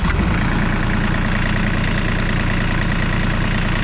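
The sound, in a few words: John Deere 3035D tractor engine starting and idling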